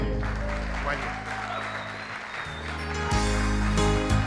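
School assembly audience claps during a Black History Month presentation, moderate applause beneath a steady low hum from the sound system, with talk mixed in.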